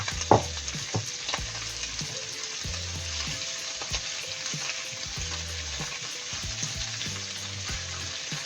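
Kale and pork cook in a pan with a steady, close sizzle, broken by sharp knocks and scrapes of a utensil against the pan and a few low clunks.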